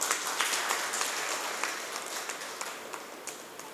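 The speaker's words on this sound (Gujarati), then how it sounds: "ફરી વખત તાળીઓ થઈ જાય." An audience applauding at the opening of a sewing machine training workshop, a steady dense wash of many hands clapping that continues without break and eases off slightly toward the end.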